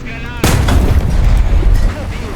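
Heavy cannon fire in the War Thunder video game, close and loud, opens with a sharp blast, then a rumbling barrage of booming shots and impacts runs for about two seconds.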